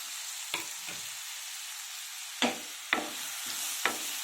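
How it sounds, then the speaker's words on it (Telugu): Three medium-size onions frying in a pan for a South Indian egg curry, a steady soft sizzle broken by a few sharp stirring scrapes and clatters, close and fairly quiet with no voices. "ఇప్పుడు బాగా ఫ్రై చేసుకోవాలి"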